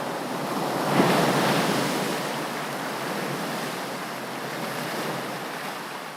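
Steady ocean surf rolls outside the Edifício Oceania apartment building, a continuous broad wash of breaking waves with some wind noise, one slightly stronger swell early on, and no voices.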